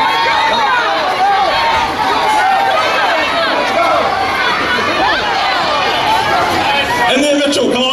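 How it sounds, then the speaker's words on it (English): A crowd loudly and continuously cheers and shouts for children at a Chinese New Year demonstration, a dense wall of excited voices close by. "So all the girls in the crowd cheer for the girls, Christy and Georgia"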